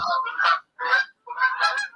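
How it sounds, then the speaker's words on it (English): Resident geese honk as they fly over, three clear bursts of nasal honking in quick succession, moderately loud and heard alone. "My permanent resident geese are flying over."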